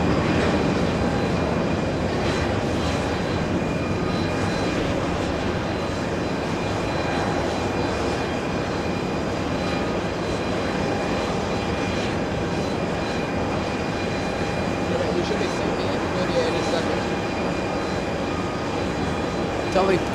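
An Airbus A321 jet departs JFK with a continuous, steady engine roar that fills the whole stretch, even and fairly loud, with no clear peak.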